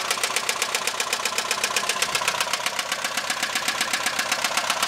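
A Subaru engine idles under the open hood with a pronounced knock, a fast, even ticking and clattering beat that carries on unbroken at close range.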